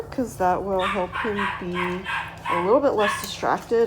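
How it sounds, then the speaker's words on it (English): A puppy barks and yips repeatedly at close range during a leash-walking session by a door, with the barks coming in quick, uneven bursts that overlap a person speaking. "Sorry about my puppy barking in the background there."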